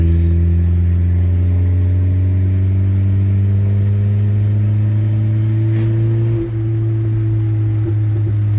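A boosted Honda Integra engine revs hard and pulls steadily, a loud, close, continuous droning roar with harmonics climbing slowly, alone without talk.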